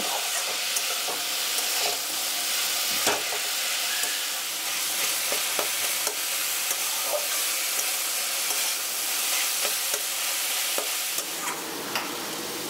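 Banana stem stir-fried in a pan with salt and a little sugar, giving a steady, even sizzle with soft scraping stirs throughout and no talking.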